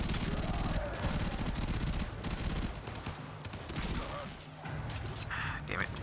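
Gunfire in Warframe's Plains of Eidolon, rapid repeated shots and bursts forming a dense, loud volley that runs for several seconds with brief gaps, a voice talking faintly underneath.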